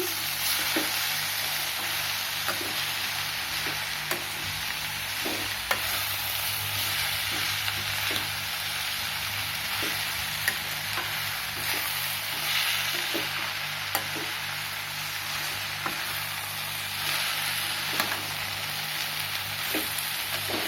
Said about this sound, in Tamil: அடியில் வெங்காயம் தக்காளி எல்லாம் அப்படியே இருக்கு, நல்லா போட்டு பிரட்டி விடுங்க.